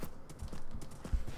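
Horse hooves in a video game, a quick run of clip-clop beats in a fast galloping rhythm, close and fairly loud, with no talk.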